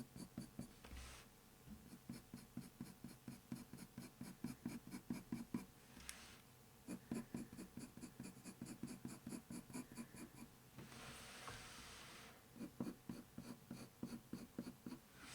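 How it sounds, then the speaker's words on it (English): Soft graphite pencil strokes on paper with light pressure, shading a tiger eye drawing: a steady run of quick, close, faint scratchy strokes in short bursts with brief pauses, heard alone. "just using a really soft pressure with the pencil to begin with"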